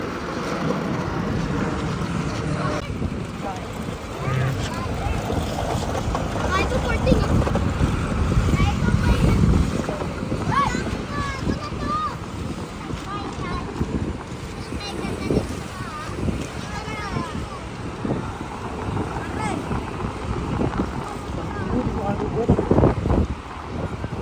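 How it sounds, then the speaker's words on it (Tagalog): Strong wind roars steadily into the microphone throughout, a dense rumbling buffeting with faint voices underneath, in a wiped-out area of houses near an airport. "Malakas yung hangin ngayon, no?"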